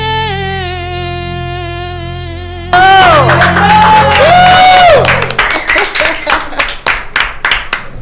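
Audience applause and cheering at the Mas FM Aruba Karaoke Fest 2023 break out loud after a sung song fades, with clapping, whoops and a crowd roar that thins into scattered claps.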